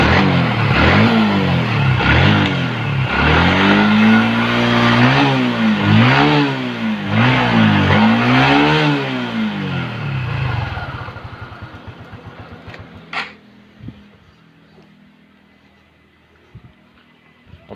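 A fuel-injected motorcycle run without a battery revs loudly and repeatedly in rising and falling swells, then settles to a quieter idle with a few clicks and knocks near the end.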